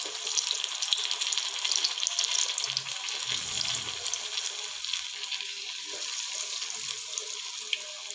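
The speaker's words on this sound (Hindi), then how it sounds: "अब इसको हम तेल में फ्राई करेंगे। तेल गर्म हो गया है, अब इसके अंदर हम एक एक करके इसको डालेंगे।" Breaded mushrooms frying in hot oil: a steady, bright sizzle and hiss fills the whole clip, with a few soft bubbling pops as pieces go in and no voices.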